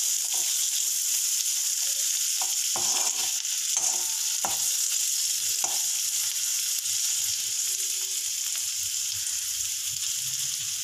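Raw peanuts frying in oil in a pan, a dense, even hiss of sizzling with a few scattered clicks and scrapes of stirring, steady and close throughout with no talk.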